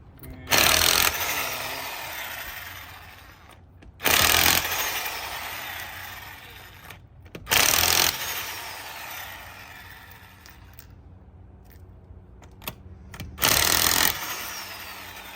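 An air impact tool takes off the wheels of a 2008 Ford Escape with a front-end clunk. Four loud, short rattling bursts sound close, with quieter shop noise between them.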